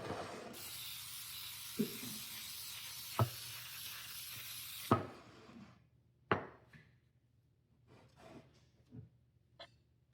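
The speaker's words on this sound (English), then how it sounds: "now we're going to spray our pan. This is baking spray that has flour in it" Baking spray containing flour hisses into a cake pan in one steady, close burst lasting about four seconds, punctuated by small clicks of the can, then quiet handling taps on the pan.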